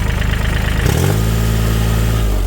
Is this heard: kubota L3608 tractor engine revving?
yes